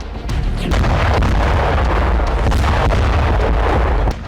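A deep, heavy explosion at a weapons factory erupts and rolls on loudly for several seconds, a sustained blast rumble with no voices.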